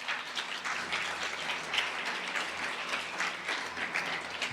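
A church congregation gives a strong round of applause during a Sunday morning Spanish-language sermon, steady dense clapping from many hands that carries on evenly throughout, somewhat distant and without voices.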